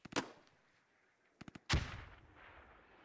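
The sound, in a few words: smoke grenade popping in video game Squad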